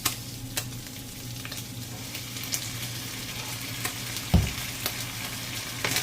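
Adobo-seasoned water spinach stirred in a hot pan, a soft steady sizzle under scattered scraping taps from the utensil and one louder clack near the end, with no talking.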